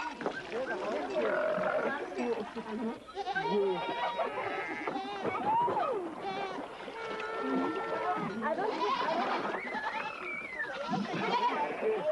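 Sheep gathered for summer dipping on a Navajo range bleat steadily in wavering overlapping calls, a dense flock close by with some talk mixed in.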